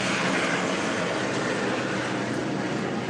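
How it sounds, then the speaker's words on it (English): A helicopter flies over Los Angeles, heard as a steady, loud broadband rotor and engine roar that stays constant through the short stretch with no talking. "Wouldn't be LA without the helicopter in the skyline."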